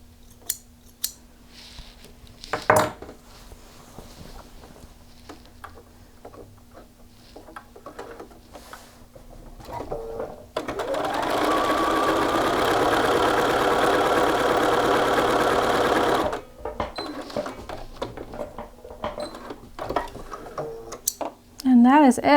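A sewing machine runs a continuous stitch along a shirt yoke's shoulder seam, a steady whirring buzz lasting about six seconds, framed by quieter clicks and fabric handling before and after.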